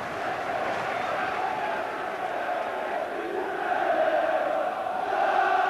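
A large football crowd at an Exeter City match roars in a continuous wash of cheering that swells slightly toward the end, heard from a distance.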